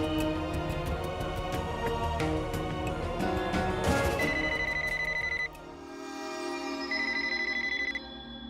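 A telephone bell rings repeatedly indoors in a domestic drama scene, loud and insistent over background music, then continues as a brighter electronic ringtone tone in the closing seconds.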